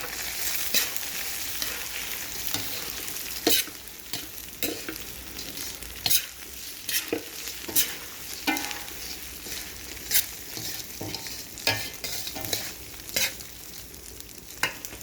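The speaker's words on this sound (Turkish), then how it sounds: "Pirinçlerimi ekledim. Tuz ekliyorum. Güzelce kavuruyorum." Rice with salt is toasted in a hot pan, giving a steady frying hiss with regular spoon scrapes and clicks against the pan as it is stirred, close and moderately loud, no voices.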